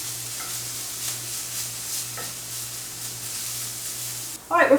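Ingredients for black bean burgers sizzle in a pan, with a continuous frying hiss and a sharp burst of stirring scrapes at the very end.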